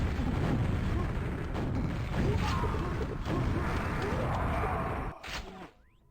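Rockets explode during a QuakeWorld team deathmatch, with booming blasts and mechanical clatter layered together in a dense, loud stretch of game noise that suddenly drops away near the end.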